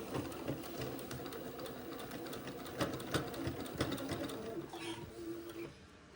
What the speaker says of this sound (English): I'll be sewing to the blue mark to the right of the seam